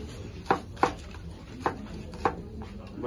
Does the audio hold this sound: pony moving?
no